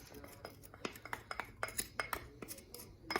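Thick oyster sauce is scraped off the side of a bowl as a utensil clinks and scratches against it, giving quick, uneven taps and scrapes heard up close and faint.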